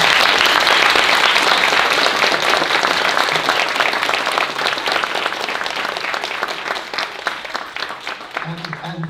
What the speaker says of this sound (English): So one more round of applause for our.